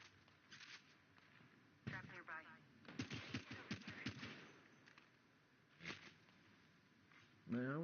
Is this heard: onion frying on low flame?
no